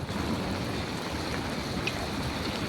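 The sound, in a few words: heavy rain falling in Kuwait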